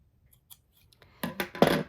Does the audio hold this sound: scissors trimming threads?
yes